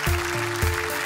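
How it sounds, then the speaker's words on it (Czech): Audience at a televised talent show gives a standing ovation, a steady wash of clapping and cheering with tonal music sustained underneath and a few low thumps. "Standing ovation."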